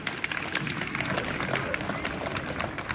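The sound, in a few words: applause at a school result ceremony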